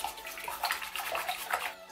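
A pet hedgehog being bathed, with soft water splashing and sloshing in irregular small bursts, quiet and close.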